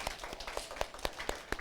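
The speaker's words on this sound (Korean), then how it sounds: "우리 받으신 하나님께 영광의 박수 올려드리겠습니다." Children's Sunday worship congregation clapping in a church, a faint, sparse series of separate claps at a loose uneven rhythm.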